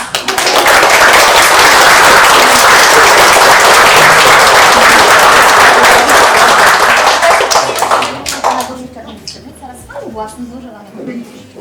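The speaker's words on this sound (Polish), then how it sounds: "Brawa!" Guests at a civil wedding ceremony break into loud, sustained applause for about eight seconds, then the clapping thins out and fades, with a few voices heard as it dies down.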